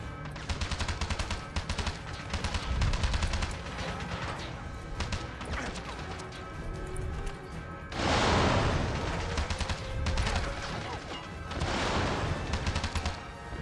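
Loud bursts of gunfire and crashing explosions in the game 007 Blood Stone, sustained and dense, with heavier blasts swelling around the middle and end.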